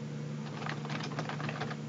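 Rapid keys clacking on a computer keyboard while an ID and password are entered during a keylogger security test, a steady patter of close, light clicks with no talk.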